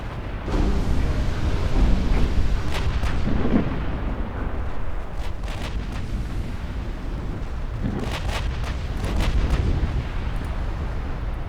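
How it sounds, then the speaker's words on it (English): A torpedo strikes a destroyer during a naval battle in Ultimate Admiral Dreadnoughts, giving a sustained rumbling explosion with heavy low booms that swell and return in waves, loud and alone with no talk. "Torpedoes incoming. Torpedo hits on one of my DDs."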